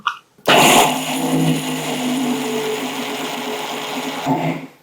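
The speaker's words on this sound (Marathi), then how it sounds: "हे असंच मिक्सरला फिरवून घेऊ" A kitchen mixer grinder whirs loudly as it grinds dry spices with fresh coriander and no water. After a short click, the motor starts and runs in a steady buzzing drone for about four seconds, then winds down.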